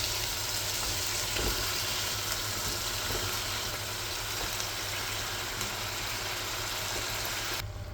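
Chicken frying in a pan with tomatoes and garlic gives a steady, close sizzle and crackle that continues evenly with no talking.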